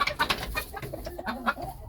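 Black roundhead game hens cluck and murmur close by in a series of short, soft, irregular calls at low volume.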